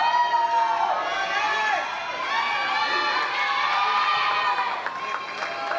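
Spectators at a varsity high school swim meet cheer loudly and steadily as swimmers battle side by side for second place, a dense echoing roar with shouts, like an indoor natatorium.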